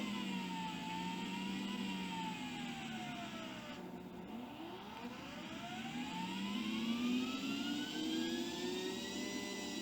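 A Pagani Zonda supercar in Car Mechanic Simulator 2018 revs loudly and continuously, its engine note sweeping up and down in smooth rising and falling pitch with a brief dip near the middle, with no talking.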